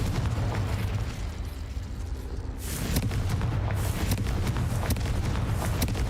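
A Confringo fire-blast spell goes off in Hogwarts Legacy, a sudden bright explosive burst about midway that gives way to a dense, crackling roar of magical combat effects over a low rumbling bed.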